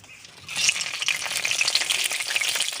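Dry red chillies, whole cumin, whole garam masala and bay leaves hit hot oil, bursting into a loud, crackling sizzle after a quiet start and spitting steadily up close.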